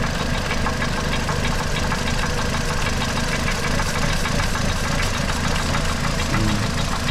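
Toyota engine with a Valvematic fault running steadily nearby, a continuous rough, knocking idle with a dense low rumble and no pauses.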